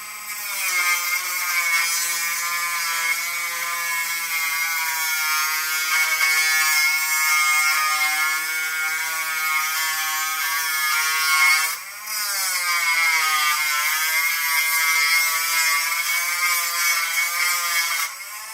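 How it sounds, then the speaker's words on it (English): A Dremel rotary tool shaves down a metal part for an SBX-1 RC car front axle assembly, a loud steady high-pitched whine that runs continuously, dipping briefly in pitch and load midway, close up with no talk. "You just take a Dremel and shave that down."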